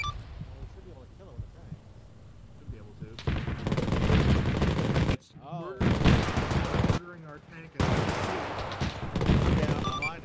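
Heavy gunfire in Arma's WW2 combat setting, loud bursts of rapid shooting broken by short gaps, with radio-style voices talking between and beneath the volleys.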